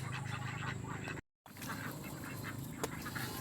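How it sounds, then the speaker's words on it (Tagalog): Domestic ducks kept in a backyard pen give faint honking quacks at a distance, soft and intermittent over low outdoor background noise, with a brief silent gap partway through. "pero ngayon ito na itik natin mga itik"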